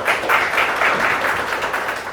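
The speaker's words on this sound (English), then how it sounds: "please join me in giving a good applause for him" Brief, dense applause from a meetup audience at a tech talk, a short even burst of clapping with no voices.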